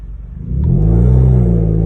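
A Hyundai Sonata with its muffler and resonator deleted revs up from idle into a loud, deep, raspy exhaust drone that holds steady close by.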